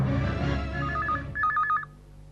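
A telephone rings for an incoming call, two short warbling electronic bursts heard under fading background music, moderately loud and close.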